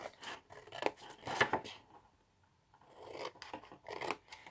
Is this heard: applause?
no